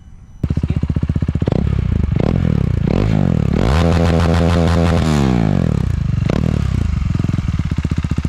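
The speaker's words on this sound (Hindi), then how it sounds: "अभी आप लोगों ने सुना ड्यूक 390 की आवाज़" A KTM Duke 390 motorcycle with its exhaust removed starts up, then a raw, loud engine idles close by and blips through several sharp revs, one held high for about a second before settling back.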